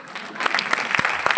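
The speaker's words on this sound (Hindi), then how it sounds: "हाँ, ताली मार सकते हैं आप," A seated audience at an Amway business seminar in Prayagraj claps in a short, lively burst of scattered hand claps.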